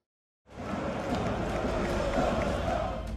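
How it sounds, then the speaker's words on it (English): A huge stadium crowd of fans celebrates a big team win, bouncing and cheering; a dense, far-spread roar starts abruptly and holds steady throughout. "A huge crowd of fans was celebrating their team's big win by bouncing inside the stadium, and the players were joining in with the cheering"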